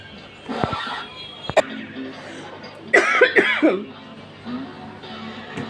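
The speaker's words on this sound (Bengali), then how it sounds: "আমার কাশিটা যেন তাড়াতাড়ি কমা যায়" A woman with a cold coughs repeatedly, a few sharp isolated coughs followed by a longer harsh fit, close and fairly loud with quieter breathy sounds between.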